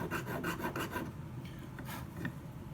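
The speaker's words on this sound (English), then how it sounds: "use a flat file to file the rivet heads down to the surface" A flat file rasps across rivet heads on sheet metal, filing them down flush in a quick run of close, rhythmic strokes that slow and thin out into a few separate scrapes.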